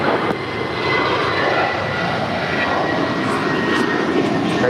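An airliner taking off from runway 25 right at LAX, a steady broadband engine roar that stays loud and constant throughout, with faint radio chatter beneath it.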